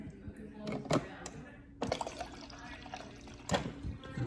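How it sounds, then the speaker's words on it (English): Water runs from the dispenser of an LG refrigerator, a quiet steady flow with a few clicks or knocks, while a person talks nearby. "Water's coming out."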